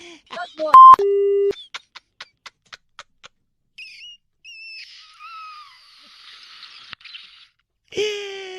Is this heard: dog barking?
no